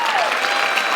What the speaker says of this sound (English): can we have some applause for the amazing people the Alexes and the Jeffs and the